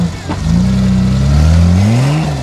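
A Toyota Land Cruiser races over a sand track at a four-wheel-drive event, its engine loud and near, revving and rising in pitch as it accelerates, with no talking.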